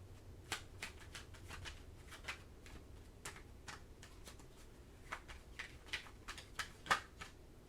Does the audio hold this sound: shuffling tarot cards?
yes